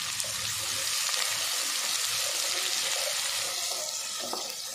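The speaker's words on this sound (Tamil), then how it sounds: "சேர்த்துட்டு வெங்காயத்தை நல்லா வதக்கி வச்சுருங்க." Small onions sautéing in hot oil for a beef kheema gravy give a steady, close, even sizzle and hiss that runs unbroken for the whole stretch, with no talking over it.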